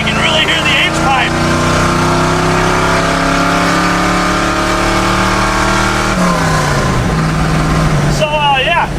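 A loud, rumbling boat engine fitted in a truck revs and holds a steady roar through an open exhaust with an H-pipe and a muffler fallen off, pitch shifting near the end, very close.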